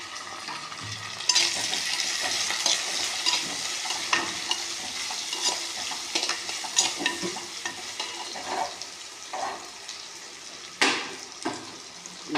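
Steady oil sizzle and crackle from green chilies frying in oil in a clay pot, with occasional stirring scrapes and louder spatters; no voices.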